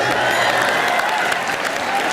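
Studio audience clapping at a live comedy show, a dense steady wash of applause with crowd noise, loud and continuous throughout.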